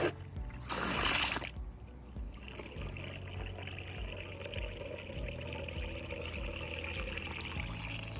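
Water pours steadily into a homemade pellet basket container being refilled to the brim, a continuous close trickle and gurgle after a louder splashing start, with no talk.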